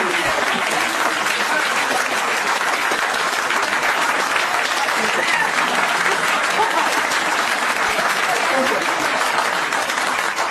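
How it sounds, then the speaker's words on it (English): Sustained audience applause from a large crowd, a dense steady wash of clapping at even loudness throughout with no pauses, close and loud. "take your applause for me"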